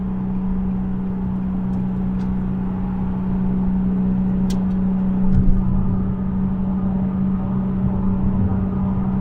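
A Nissan 370Z Nismo's Fast Intentions exhaust holds a steady, deep drone in fourth gear at 4,000 RPM, swelling slightly midway, with a few faint clicks over the constant hum.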